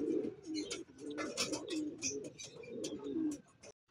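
Racing pigeons coo close by in low, rolling throaty calls repeated several times, with a few brief higher chirps and rustles mixed in.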